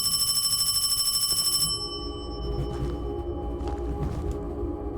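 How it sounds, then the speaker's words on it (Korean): A telephone rings with a loud, regular electronic trill in the Hong Kong horror game Paranormal HK, then cuts off abruptly, leaving a low eerie ambient drone with faint scattered knocks. "먼저 전화를 받겠습니다"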